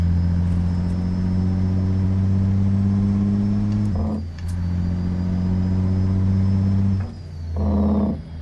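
In American Truck Simulator, a truck engine drones in a low, steady hum after a downshift, with two short dips and surges in pitch as gears change, loud and close.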